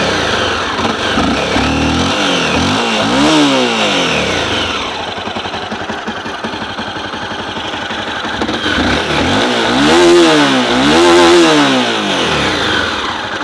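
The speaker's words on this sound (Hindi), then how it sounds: "Yeah, this is the sound of this particular exhaust." A Honda CBR 250R with its stock exhaust idles with a steady throb, then revs up and drops back several times, loud and close, with no talking.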